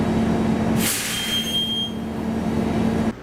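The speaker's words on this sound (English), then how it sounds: "The air brakes sound similar." A loud burst of air release hisses from a 60-foot articulated bus's air brakes over a low engine hum, followed by a thin whine before the idling cuts out.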